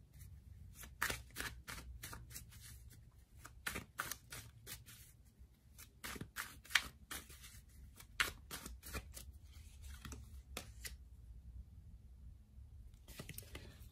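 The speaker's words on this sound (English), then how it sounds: "let's give the cards a good shuffle and see what comes up for us" Quiet, close riffling and snapping of tarot cards being shuffled in quick repeated bursts, with short pauses between.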